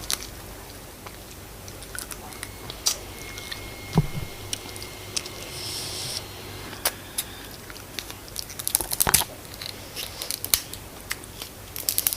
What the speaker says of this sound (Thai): เสียงไหมแกรบแกรบมากเลยจ้า